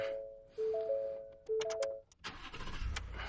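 Electronic chimes beep in a short pattern, then a car engine cranks and catches, settling into a low running rumble.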